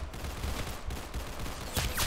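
Rapid gunfire in the Roblox shooter game Arsenal, a dense continuous burst of shots from a Halloween Glock, close and loud with no talk over it.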